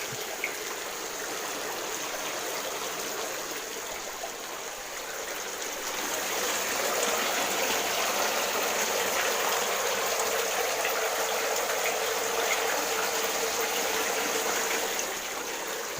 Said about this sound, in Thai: เติมน้ำ เป็นการเพิ่มออกซิเจนบำบัดน้ำไปในตัวครับ